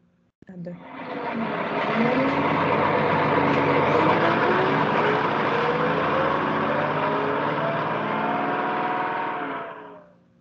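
A city bus or metro train engine runs steadily, a loud continuous rumble with a rising whine, starting abruptly and holding for about nine seconds before cutting off.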